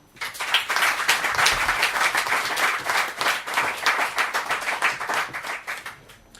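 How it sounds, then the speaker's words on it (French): An audience applauds a dedicated organiser at an inauguration evening, steady clapping rising quickly and holding for several seconds before thinning slightly, with no one speaking over it. "Je vous demande d'applaudir notre très dévouée Pascaline Bouillot."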